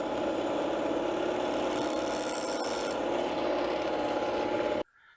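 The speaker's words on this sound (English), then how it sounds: "I hold the tungsten and rotate it while this thing is spinning" A small bench grinder wheel grinds a tungsten welding electrode as it is rotated against the spinning wheel, a steady, loud, close rasping hiss that runs unbroken for about five seconds, then cuts off abruptly.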